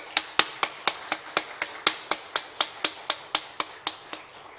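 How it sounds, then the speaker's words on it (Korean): A church congregation clapping hands in unison during a Sunday morning service, a steady run of about twenty sharp, evenly spaced claps, fairly close, with no talking over them. "우리 한번 다시 한번 박수 쳐주죠."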